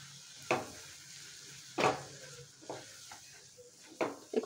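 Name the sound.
stirring spices and tomatoes in a pan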